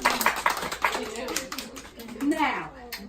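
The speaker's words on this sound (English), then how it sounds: "Clap your hands for him." Several people clap hands for JJ, a cockatoo, with a quick burst of claps at the start under lively talk and a voice, the applause fading as the speaking continues.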